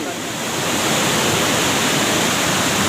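A waterfall at Keumumu Seberang village roars as water pours down, a steady, loud broadband rush filling the whole stretch with no break.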